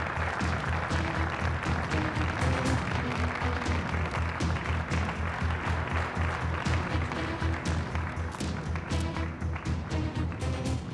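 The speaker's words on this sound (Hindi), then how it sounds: "अली कोजान के लिए तालियां" Applause for Ali on stage: a dense, steady wash of clapping from an audience that lasts throughout, with sharper taps scattered over it.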